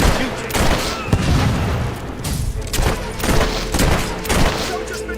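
Rapid bursts of gunfire ring out in the Fable 3 video game amid a noisy battle, a loud fusillade of repeated shots with booming impacts.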